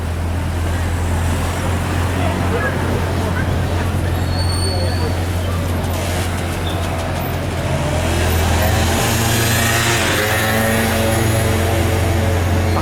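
A Bugatti Chiron rolls along a street in Juan-les-Pins past onlookers, its low engine drone steady and near, rising slightly toward the end over general street noise and crowd chatter.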